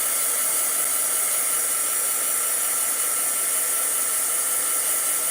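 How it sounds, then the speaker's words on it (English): A heat embossing tool blows hot air over acetate in a continuous loud, even hiss-roar that holds steady throughout with no pauses, close to the listener. "this heat tool was made for embossing"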